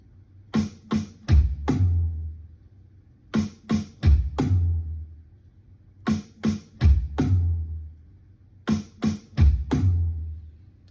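A slow drum fill repeats four times: a few crisp snare and tom hits ending in a deep, booming bass drum thump, with gaps between.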